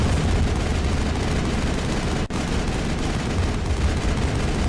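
Continuous dense rumble of sci-fi gunfire and combat noise from the Mass Effect video game, loud and sustained with a single brief dropout midway, no voices.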